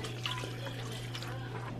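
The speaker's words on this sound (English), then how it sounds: "And this is where we're going to add our water." Water poured into a cooking pot of chicken noodle soup, a faint steady splashing and trickle under a constant low kitchen hum.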